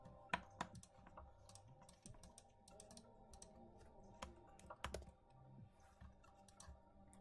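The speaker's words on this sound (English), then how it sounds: "Alt then I on the keyboard." Keys clicked on a computer keyboard during a live trading session, a few sharp taps and short bursts of typing over a low background hum, fairly close and with no voices.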